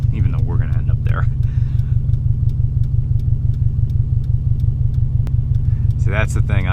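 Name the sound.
muscle car engine idling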